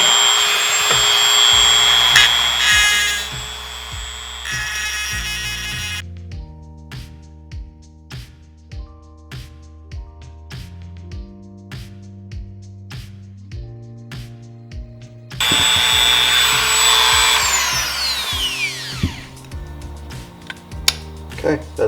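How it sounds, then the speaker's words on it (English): A power tool grinds burrs off a metal belt buckle, a loud whirring grind at the start, then a quieter stretch of intermittent taps and short mechanical sounds, before the grinder spins up again near the end. "now I'm going to try to get the burrs off of here,"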